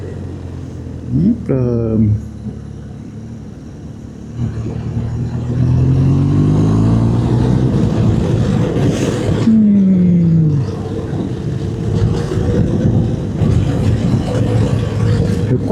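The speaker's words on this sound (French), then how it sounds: "Je vais mettre une vitesse supplémentaire parce que je suis un peu bas." A BMW R1200GSA motorcycle engine drones steadily, then its pitch climbs and drops as it shifts up a gear, loud and close to the microphone, with a short spoken exclamation early on.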